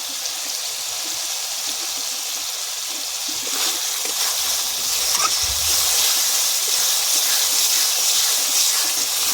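Peas frying in oil for a potato curry give off a steady, loud hiss of sizzling throughout, with faint stirring clatter.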